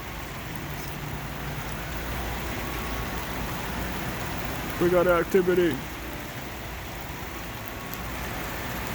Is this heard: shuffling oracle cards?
no